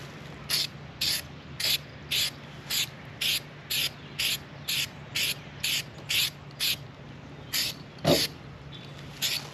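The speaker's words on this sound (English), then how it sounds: "I'm gonna shake up the can and get to spraying." Aerosol spray can applying light coats of bed liner to an FJ Cruiser bumper: about fifteen short, evenly spaced hissing bursts, each under a second, close and steady against a low background hum.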